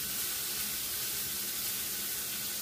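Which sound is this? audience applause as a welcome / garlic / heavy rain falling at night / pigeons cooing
garlic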